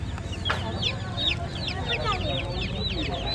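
Small chicks cheep in high, rapid chirps amid a busy morning market in Kuala Kangsar, with a loud low crowd hum beneath and voices around.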